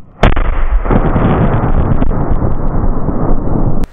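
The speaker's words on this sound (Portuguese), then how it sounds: "a explosão foi muito alta, sério" Dynamite blowing up inside a barrel of slime: one sudden, very loud, close blast followed by several seconds of heavy rumbling, crackling roar that stays strong before cutting off abruptly, with no talking.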